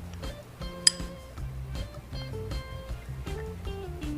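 A spoon stirs a French coffee mixture, with one sharp clink followed by quieter scraping and tapping over steady background music.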